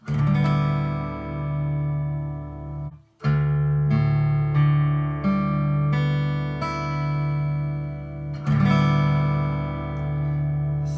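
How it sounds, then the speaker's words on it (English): Guitar strings in drop D tuning strummed and left ringing, then picked one by one, each low note sustaining and decaying before the next. "So now we have the guitar in drop D tuning."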